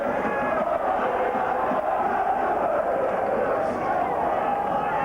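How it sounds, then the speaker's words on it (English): St Helens Saints rugby league supporters roar in a packed stadium at a 1988 home match against Warrington, a steady, dense wall of crowd cheering and chanting that holds at full volume throughout. "The Saints crowd getting behind them there,"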